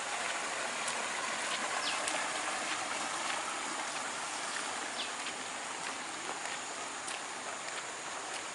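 Fast-flowing river water rushes steadily as a dense, even broadband roar. It is moderately loud and continuous, heard outdoors in a village on a rainy afternoon, with no voices.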